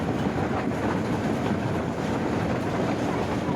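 The Hyderabad–Sukkur Hojamalo passenger train runs through Sukkur with a steady, loud rumble and a rushing roar that stay constant throughout, with wind buffeting mixed in.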